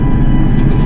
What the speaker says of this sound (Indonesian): itu suara keberisikan dari kereta api ya